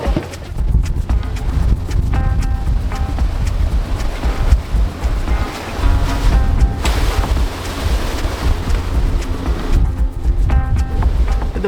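Strong wind roaring steadily around a sailing boat crossing the Great Australian Bight in stormy conditions, with waves rushing and surging past the hull, loud and continuous, with no voices.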